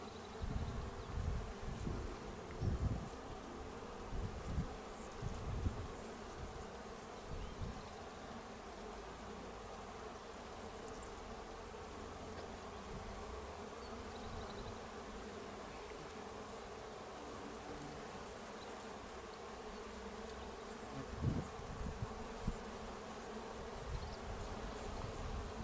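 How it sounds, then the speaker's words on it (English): Bees buzz steadily while gathering nectar in fields near a ranch in Mexico, a dense, continuous hum with occasional louder passes close by in the morning air. "the bees are busy gathering nectar"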